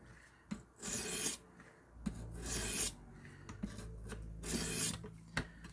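A knife blade is drawn across the abrasive of a WorkSharp Precision Adjust sharpener in about four slow, even rasping strokes, close and clear, with short pauses and small clicks between passes.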